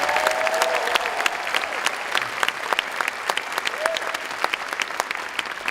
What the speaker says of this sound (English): Let's give them all one big round of applause right now.